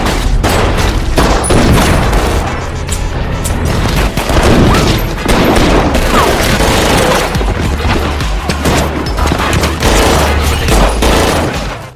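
Dense, loud gunfire fills an action-film battle between a dealer's henchmen and fighters, with rapid bursts of automatic fire, booming shots and crashes continuing without pause.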